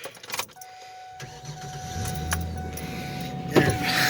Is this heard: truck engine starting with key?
yes